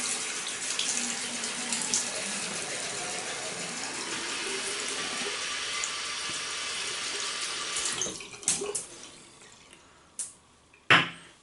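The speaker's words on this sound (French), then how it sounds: "On va mouiller la brosse" Water runs steadily from a tap onto a shaving brush at a sink for about eight seconds, then stops, followed by a few sharp knocks and taps as the wet brush is handled.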